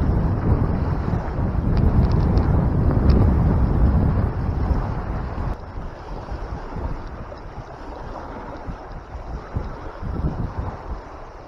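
Loud, gusty wind buffeting the microphone outdoors near water during catfishing, stronger at first and then easing into a lower rumble.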